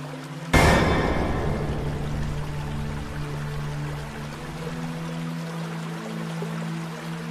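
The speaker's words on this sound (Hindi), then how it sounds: "संताजी पास के महादेव मंदिर के झरने में स्नान करने का विचार किया।" Water suddenly gushes and pours steadily at a waterfall by a Mahadev temple where a man bathes, a loud close splash onset settling into a continuous rushing stream with a low hum beneath.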